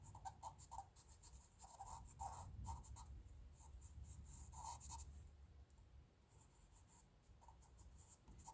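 Pencil scratching across paper while shading a tonal drawing, with a rapid, irregular run of close, dry strokes that rises and falls in bursts throughout and has no voices over it.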